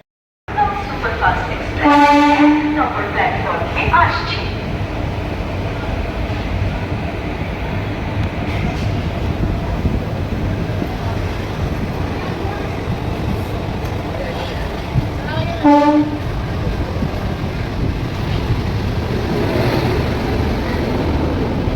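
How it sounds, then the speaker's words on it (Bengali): The Aranyak Express pulls into Santragachi station with a continuous loud rumble of rolling wagons. The horn sounds near the start and again around two-thirds of the way through, and people's voices can be heard under the noise. "আমাদের ট্রেন ঢুকে গেল তার প্রথম স্টেশন সাঁতরাগাছিতে"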